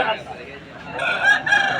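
An Aseel rooster crows at a busy rooster market in Vijayawada, a strained, drawn-out call rising over a steady hum of crowd noise and nearby clucking, fairly close and moderately loud.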